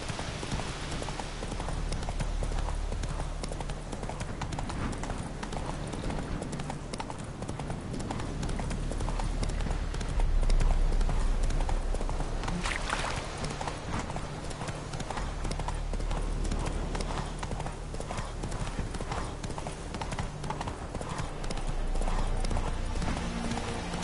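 Roach the horse gallops in The Witcher 3, with a steady rhythmic clip-clop of hooves that is loud and continuous throughout the passage.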